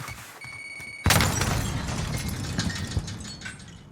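A frag grenade explodes in a Warzone match near a yellow house, a sudden loud broadband blast with a crackling, debris-filled tail that decays over several seconds.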